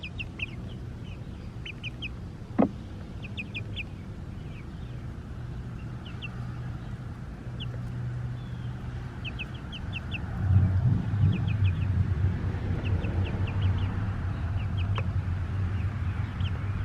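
Short bursts of clucking from a few birds, scattered throughout, over a steady low hum that grows louder partway through.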